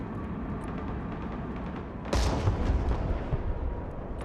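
Buratino thermobaric rocket artillery barrage in the war game Broken Arrow, a sudden heavy blast at mid-clip followed by rumbling impacts and booms over a low battlefield din.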